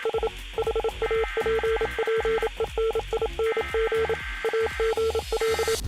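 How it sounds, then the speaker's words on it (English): Rapid beeping Morse-style tones from the Fortnite emergency broadcast carry a steady pitched pattern of short and long pulses over a low droning, radio-like transmission bed that runs the whole time. "The emergency llama is back on screens with a hidden layer of Morse code in the transmission."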